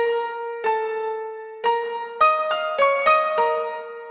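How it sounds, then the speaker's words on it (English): New York Concert Grand sampled piano from a Kontakt library plays a slow sequence of sustained notes and chords, each struck clearly and left to ring in a clean, close, solo sound. "We're gonna be using the New York Concert Grand from Contact."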